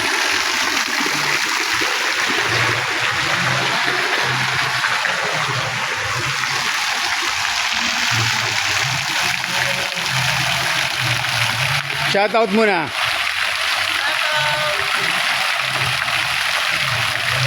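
Water splashes in a resort fountain as a loud, steady rushing and pattering spray, close by, with a person talking briefly over it.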